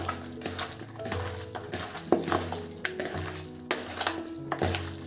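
Chicken pieces being mixed with spice masala, with soft wet squelching and scattered scraping clicks in an uneven rhythm, close and moderately quiet, under a faint background sizzle.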